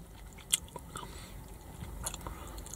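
Chewing a Burger King Whopper, heard up close and faint: a crisp bite followed by soft, irregular mastication sounds and small crunches.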